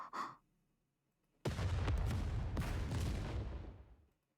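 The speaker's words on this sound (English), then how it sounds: "A massive explosion echoes from deep within the pitch-dark Ark." In the video game Goddess of Victory: Nikke, a massive, deep explosion erupts inside the dark Ark after a short breathy sound and near silence, rumbling loudly for a few seconds with crackling bursts before cutting off.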